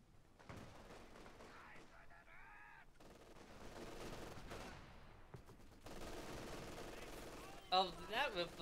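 Gunfire from a Company of Heroes 2 battle, including machine gun bursts, rattles faintly under game sounds, and a voice talks across it.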